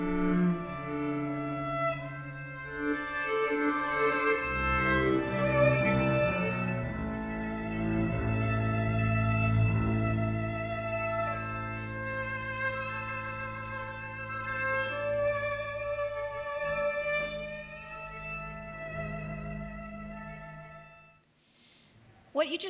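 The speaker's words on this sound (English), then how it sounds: "The musicians played up a musical score just like this that is entirely made out of weather data." Musicians play a score built from Hurricane Noel weather data, with sustained tones and slowly shifting harmonies that swell and fade over about twenty seconds.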